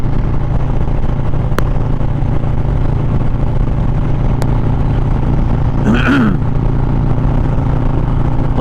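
Steady engine and wind rumble while riding a motorcycle on a chilly ride, continuous and even throughout, with a brief faint squeal near the middle.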